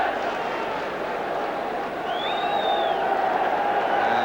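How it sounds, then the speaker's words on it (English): Crowd at a Sheffield United football match applauding a player, a broad roar of distant clapping spread around the stadium, steady and continuous beneath a commentator's voice, with a faint whistle. "And the applause ringing around the ground for Alex Sabella, who's come across to take it."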